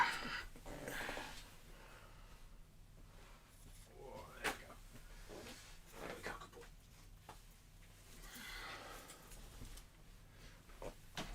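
A dog shifts about close by with soft whimpers, breathing and scuffling paws, quiet and intermittent with faint knocks in the background.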